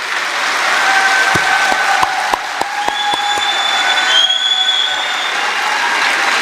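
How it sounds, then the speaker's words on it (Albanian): A political meeting audience of socialist women gives stormy, sustained applause, a dense roar of clapping with a few sharp separate claps and faint tonal whistles over the top. "Po një duartrokitje të stuhishme."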